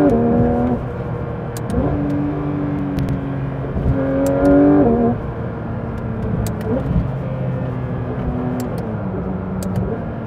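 A Porsche 911 GT3 RS engine heard from inside the car on a public road, loud and close, revving up through rising pitch sweeps with shifts between them and a steady mechanical drone throughout.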